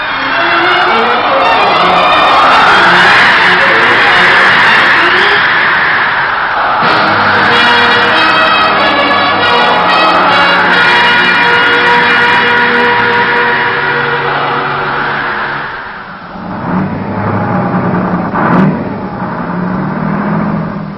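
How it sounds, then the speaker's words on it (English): Heavy diesel engines of Navy Seabee construction equipment roar loudly and continuously at dawn after Hurricane Camille, rising and falling in pitch like machinery working hard, then settle into a rougher idling rumble. "The first sounds at dawn after the passage of Camille were the roaring diesel engines of Seabee heavy construction equipment"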